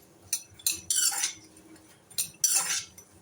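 A metal spoon scoops roasted walnuts out of ghee in a pan, giving two separate bursts of scraping and clinking, close and fairly quiet, with short pauses between them.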